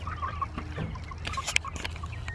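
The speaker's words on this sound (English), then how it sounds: "For a 6-week-old chicken, you look pretty good." A six-week-old chicken on a homestead clucks in short, scattered calls, close by and fairly clear over low background rumble.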